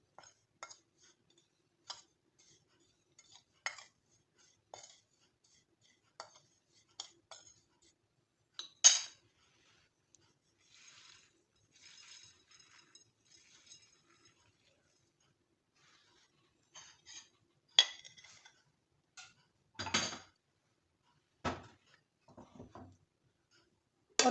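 A spoon mixing powdered spices into lasooda pickle, scattered close clinks and scrapes against a bowl with quiet pauses between, occasional faint voice.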